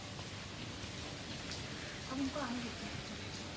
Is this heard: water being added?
no